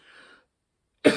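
A single sharp cough bursts out close and loud at the end, following a stretch of quiet.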